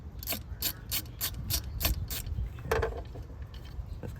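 Screws being loosened on the throttle body of a 2015 Mercedes E350, a ratchet clicking in a steady run of about eight sharp ticks, close up, followed by a softer scrape and then quiet, with no talking.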